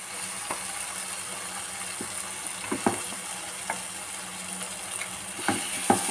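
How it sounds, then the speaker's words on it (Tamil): Egg masala gravy with tomato and onion sizzles steadily in an oily pan, broken by occasional sharp clicks and scrapes of stirring. "இப்போ இந்த கிரேவி வந்து நல்லா எண்ணெய் பிரிஞ்சு நல்லா வந்துச்சு பாருங்கள்"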